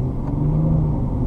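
A BMW M235i with 326 hp on a test circuit, its engine a steady low rumble that builds slightly as the car accelerates, close and continuous with no voices.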